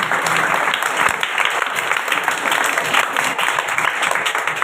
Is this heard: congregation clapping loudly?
yes